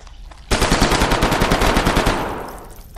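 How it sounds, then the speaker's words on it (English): Machine gun fire in the video game Hidden Deep: a loud, close, continuous burst of rapid shots lasting about a second and a half, then fading into a reverberant tail. "Machine gun for the win."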